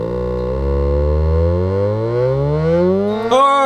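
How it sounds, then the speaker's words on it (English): A homemade DIY oscillator feeding an 8-bit analog-to-digital converter chip gives a buzzy harmonic tone that glides steadily upward in pitch as its voltage is turned up, loud and close, then jumps sharply higher near the end. "You can hear an oscillator right now."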